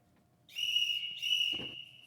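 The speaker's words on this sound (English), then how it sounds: "a whistle." A sharp, steady whistle sound effect played during a guessing game, sounding in two clear blasts with a brief gap between them, followed by a short rustle, with no voices over it.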